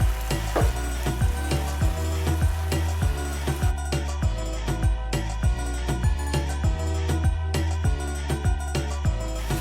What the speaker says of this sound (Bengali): এবার পনিরগুলো দিয়ে দেবেন।